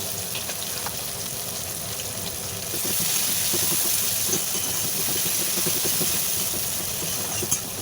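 Chopped onions go into hot oil with bay leaf, green chillies and cumin for a singhi fish curry. A steady hiss swells into a louder, fuller sizzle partway through and carries on alone.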